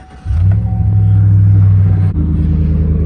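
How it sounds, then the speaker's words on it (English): A 2013 Chevy Silverado 1500's Black Widow exhaust rumbles loudly at idle after a quick start, a deep steady drone that dips briefly and then settles into a lower burble. "The Black Widow exhaust sounding pretty good."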